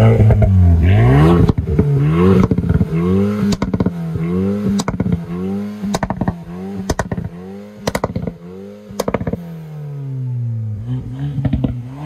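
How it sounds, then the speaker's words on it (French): An Alpine A110 R with a dual exhaust, revved repeatedly up and down at close range. The engine note rises and falls in quick surges, with sharp crackles and pops between the revs. "Ici, on a une double sortie d'échappement qui sonne très très bien."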